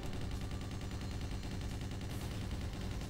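Automatic gunfire in a video game, a rapid, evenly spaced stream of shots rattling without pause, close and sustained but recorded at a low level.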